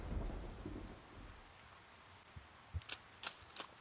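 Steady rain falling in the video game Persona 4 Golden, a soft continuous hiss with a low rumble early on and a few brief sharper taps or knocks toward the end.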